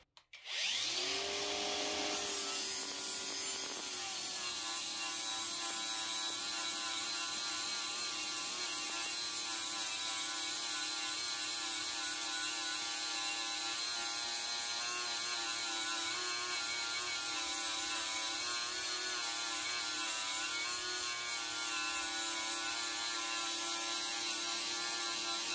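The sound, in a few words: Parkside Performance cordless angle grinder grinding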